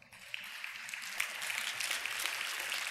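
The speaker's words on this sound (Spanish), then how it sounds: "Un aplauso al Señor" Applause from a church congregation rises quickly and holds as a soft, fairly distant patter of many hands, with scattered sharper claps on top.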